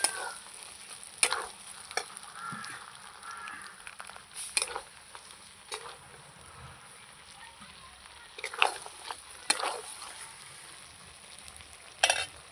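Mutton pieces sizzle steadily in a pan during a Bengali home-cooked lunch, with intermittent scraping strokes of stirring; a fairly quiet, continuous fry with no talk.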